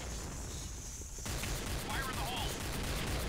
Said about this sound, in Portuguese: tem esse atirando em mim